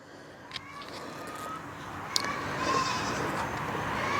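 Goats on a farm bleat a few times at moderate distance over a steady outdoor background, with short sharp calls standing out briefly.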